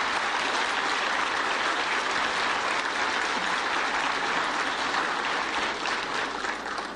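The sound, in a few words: audience applause for panelists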